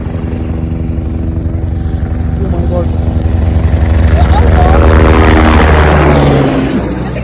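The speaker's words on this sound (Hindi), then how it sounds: "फिर मेरी नज़र पड़ी कि वहाँ से हेलीकॉप्टर आ रहा है।" A helicopter flies near George Everest peak in Mussoorie, a loud droning engine and rotor roar that swells as it draws nearer, with a voice faintly over it.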